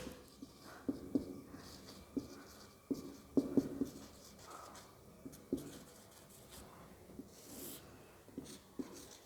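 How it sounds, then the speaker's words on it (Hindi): A pencil drawing on paper is rubbed out during a geography practical lesson, with quiet, irregular scratchy strokes and faint taps spread over several seconds and no talking. "इसको मैं मिटा देती हूँ ताकि कंफ्यूज नहीं हो"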